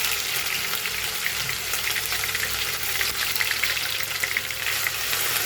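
Pounded spice paste hits hot oil in a pan, producing a loud, continuous close-up sizzle and crackle that runs steadily throughout.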